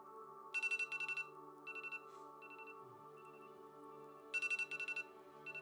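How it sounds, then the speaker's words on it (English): Electronic alarm ringtone in a luxury cabin aboard an RH Fisheries vessel, sounding in repeated bursts of rapid high beeping over a steady low engine drone, with pauses between bursts. "So that's not quite the alarm that you want to be woken up by."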